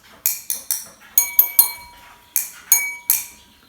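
A plastic glass tapped with a series of sharp, close clicks in small irregular groups, about ten taps in all, each short with a brief ringing tail, heard alone without talk.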